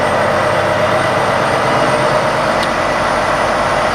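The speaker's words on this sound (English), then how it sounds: "what you'll hear behind me is the truck starting to ramp up the RPM" Volvo VNR D13 truck engine from 2019 drones steadily and loudly during a forced DPF regeneration, a continuous heavy hum with no speech over it.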